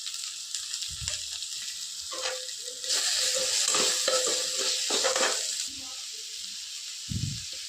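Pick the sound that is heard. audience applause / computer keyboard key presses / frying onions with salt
frying onions with salt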